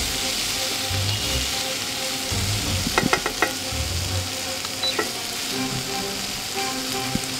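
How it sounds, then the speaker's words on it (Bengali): Mixed vegetables frying with chopped tomato and dried red chili for a Bengali fish curry, giving a continuous close sizzle and hiss with a few sharp clinks and scrapes of stirring midway, no talking. "সবজি কিছুটা ভাজা হয়ে গেলে এতে একটা টমেটো কুচি আর শুকনো লঙ্কা দিয়ে আবার ভালো"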